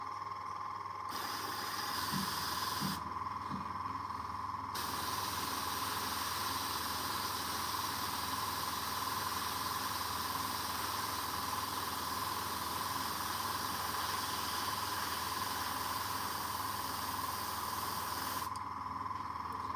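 An airbrush sprays paint onto a Warhammer miniature, a steady close hiss running almost the whole time with brief gaps near the start and end, no talking.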